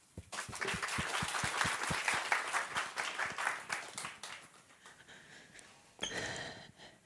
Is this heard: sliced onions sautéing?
no